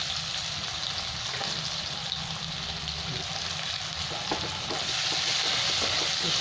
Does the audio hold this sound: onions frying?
yes